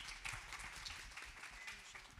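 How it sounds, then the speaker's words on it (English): Quiet applause from an audience for a panel at a tech career wellness talk, a brief, soft, continuous patter of many hands heard from a distance. "Can we have a round of applause for our panel?"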